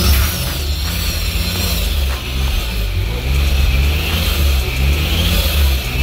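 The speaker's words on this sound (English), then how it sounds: "as I give it gas," A turbocharged 2JZ-GE engine in a Lexus SC300 revs steadily, a loud close low drone with rising and falling throttle swells and a faint turbo whine above.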